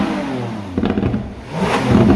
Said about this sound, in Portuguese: O que a Lamborghini fez na Aventador foi mudar essa característica desse V12 e trouxe mais notas ríspidas e embaralhadas com som um pouco mais grave.